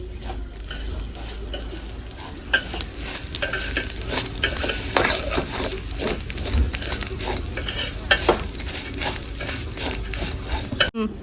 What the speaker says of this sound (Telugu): మురగాలు సేమియాలు వేసుకోవాలి వేయించుకోవాలి